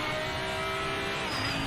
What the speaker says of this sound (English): we're going on board with the Lamborghini Huracan